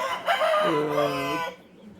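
A single loud, close rooster crow rises and holds in a long drawn-out call before breaking off, with no talk over it.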